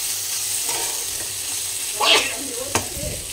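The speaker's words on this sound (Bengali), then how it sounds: "দেখো এদিকে ভাজাটা এখনও হচ্ছে" Food fries in a pan with very little oil, a steady close sizzle broken by a brief scrape and a sharp utensil clink, with no talking.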